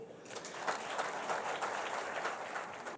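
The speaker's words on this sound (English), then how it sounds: "Another round of applause," Steady, dense applause from a seated audience at a formal conference launch event, a broad wash of clapping hands that continues evenly throughout.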